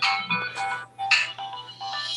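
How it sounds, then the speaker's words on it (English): A Nokia Lumia Windows phone ringtone plays a bright melodic tone pattern in short repeated phrases with brief pauses, loud and close with no talk. "It was my Windows phone, a Nokia Lumia, whatever it's called."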